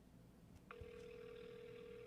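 A telephone rings on an outgoing call, one steady electronic ring tone starting after a brief quiet moment and holding clear and even to the end, with no talking.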